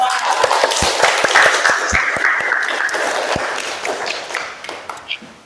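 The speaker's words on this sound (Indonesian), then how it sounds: "kita sama-sama memberikan aplaus kepada kelompok" A classroom of students applauding a presenting group, scattered sharp hand claps building into brief applause nearby, thinning out and fading toward the end, with voices talking alongside.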